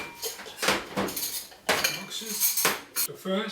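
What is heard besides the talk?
mixing powdered sugar and water icing in a bowl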